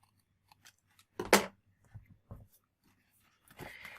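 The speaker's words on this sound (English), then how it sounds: "flip that over and trim off the excess" Scissors snip through an excess paper strip on a handmade card in one sharp, close cut, surrounded by quiet paper rustles and small handling taps in a hushed room.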